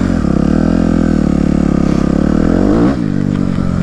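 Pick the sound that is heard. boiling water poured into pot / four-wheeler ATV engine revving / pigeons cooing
four-wheeler ATV engine revving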